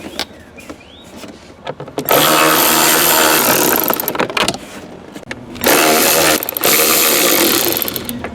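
A ratchet on a long extension tightens long bolts on the dash cover of a third-generation Camaro or Firebird, with bursts of rapid, loud clicking separated by pauses, close by.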